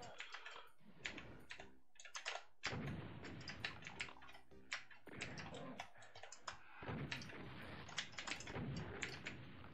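Keys clatter steadily on the keyboard of a 386 computer running DOS, fast irregular clicks and taps with occasional heavier thumps, close and fairly quiet, with no voices.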